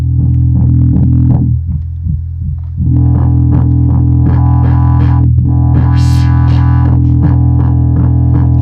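Synthesizer preset with a modulation effect set up on a Sequentonal rig, a loud sustained droning tone with rhythmic pulsing notes and a swelling sweep, continuous and alone.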